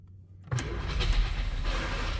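A 1947 Bentley Mark VI engine catches after a push-button start, with a brief crank and then a sudden roar that settles into a rough, loud idle close by.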